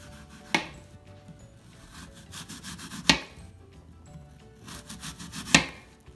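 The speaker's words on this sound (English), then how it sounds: "So the way that I like to cut the apples, I'm gonna do some thin slices like this." A knife cuts thin apple slices on a wooden cutting board, three sharp chops spaced a few seconds apart, with softer rubbing and scraping of the blade and fruit between them, close and clear.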